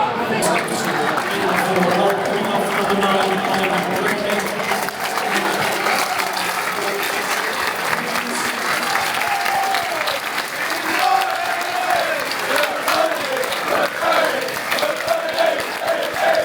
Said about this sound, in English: It was nice from the Sheffield United fans to clap McBurney off as well